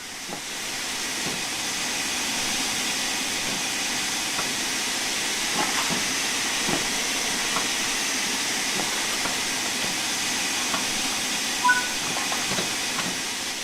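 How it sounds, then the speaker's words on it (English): Steady hiss of steam venting from a steam locomotive's open cylinder cocks in the video game Train Sim World 4, continuous and even, with faint scattered clicks and clanks underneath. "Open the cylinder cocks to remove any water."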